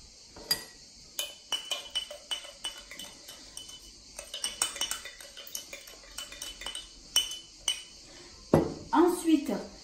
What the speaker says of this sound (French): Donc je vais bien remuer.